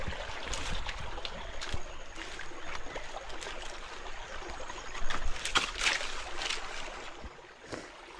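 Spring water from a forest source runs steadily through an irrigation channel in the Konkan woods, a continuous close gurgling and trickling with small splashes and no voices.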